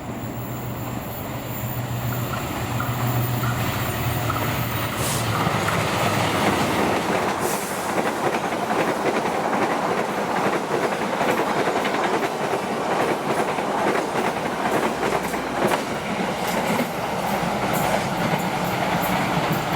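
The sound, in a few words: Argo Parahyangan passenger train passing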